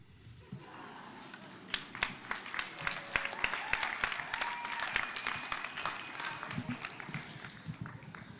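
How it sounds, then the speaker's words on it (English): An audience at a high school spoken word poetry contest breaks into sustained applause, dense clapping rising and filling the room for several seconds, with scattered cheers mixed in and no speech. "Thank you for the applause there."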